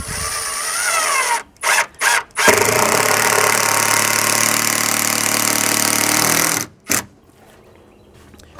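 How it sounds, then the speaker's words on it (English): A cordless drill drives a screw into a BBQ support on a wood deck, with one long steady whir after several short bursts and a final quick pulse, loud and close with no talking. "And I'm going to put 1 screw here."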